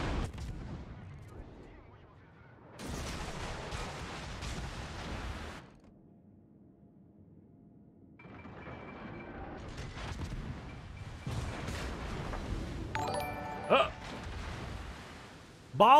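Ship guns fire in World of Warships, heavy booming salvos in separate bursts with quieter gaps between them and a sharp blast right at the end, with a voice talking in places.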